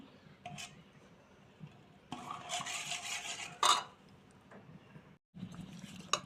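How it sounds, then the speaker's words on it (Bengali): Rice flour batter being stirred and mixed thin in a bowl, soft wet scraping and sloshing with a few clinks against the bowl, a louder stretch of vigorous stirring in the middle, no talk. "প্রথমে গুড়িটা পাতলা করে গুলে নিতে হয় দেখো এইভাবে গুড়িটা আমি গুলে নিচ্ছি"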